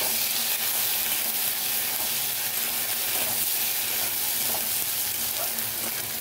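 Onion, capsicum and a ginger, garlic, cumin and black pepper paste frying in a pan, a steady close sizzle and hiss running unbroken throughout with no talk.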